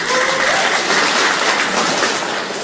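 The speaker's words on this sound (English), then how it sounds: "So I think that's worth a round of applause." An audience at a business presentation breaks into sustained applause, a dense wash of clapping hands that stays loud and even for a few seconds before easing slightly.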